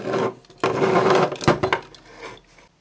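The two halves of a DP-5A military radiometer casing are pulled apart, giving close scraping, rubbing and knocking sounds in several uneven bursts that end in quiet.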